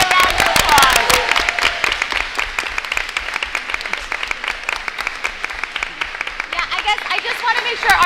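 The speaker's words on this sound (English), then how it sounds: "Let's give him one more round of applause." Applause from the audience at a board of education public meeting, a dense run of many hands clapping that holds steady for several seconds, with a voice speaking over it.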